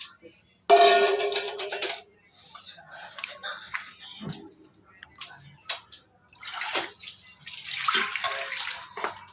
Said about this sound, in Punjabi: ਹੁਣ ਅਸੀਂ ਇਸ ਨੂੰ ਪਾਣੀ ਨੂੰ ਛਾਣ ਲਵਾਂਗੇ